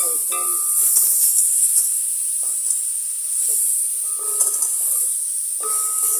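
A pot of green pepper and garlic sauce cooking over the heat in an African village, giving a steady close hiss and bubbling sizzle with a few faint clinks and knocks on top.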